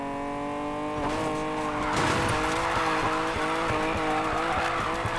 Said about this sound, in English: Oh, it just slides so well. They'll write stories about this drift.